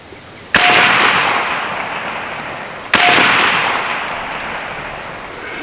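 BinTac B&W S45 .457 caliber big bore semi-auto air rifle firing slugs outdoors: two loud, sharp shots about two seconds apart, each with a long ringing tail.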